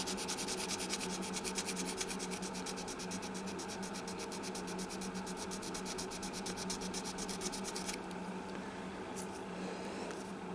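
Fine 220-grit sandpaper is rubbed by hand across a guitar's finish in a fast, steady back-and-forth scratching rhythm, close and quiet, stopping near the end with a few small taps.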